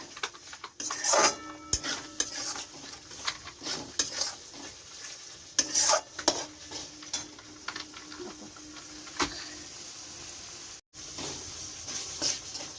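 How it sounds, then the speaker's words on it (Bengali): Spice paste for mutton curry being stir-fried in a pan, with faint sizzling and repeated scraping, clinking stirs of a spoon against the pot, close and quiet. "মশলাটা ভালো করে কষে নিলে"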